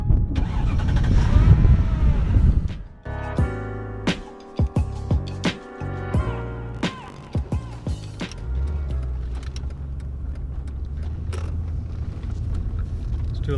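A Mercedes E55 AMG starts with a loud cranking and a burst of revving, then drops through a few clicks and clunks into a steady, deep idle rumble that runs to the end.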